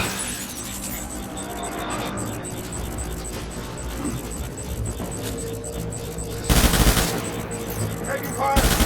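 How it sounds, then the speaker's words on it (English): Gunfire in the video game Death Stranding, with rattling shots over a dense mix of game sound, swelling into a louder, close burst near the end. "Taking fire!"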